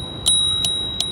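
A manual bell on a Vsett 8+ electric scooter rings three bright, sharp dings at even intervals, each leaving a short metallic ring, close and clear against a quiet background.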